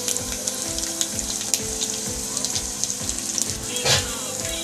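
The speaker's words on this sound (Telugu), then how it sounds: "ఇందులోకి కొన్ని ఆవాలు, కొన్ని మిర్చి, కొంచెం కరివేపాకు," Mustard seeds, chillies and curry leaves sizzle in hot oil for a tempering to pour over dhokla, a steady crackling hiss dotted with sharp pops and spits, close by with no voices.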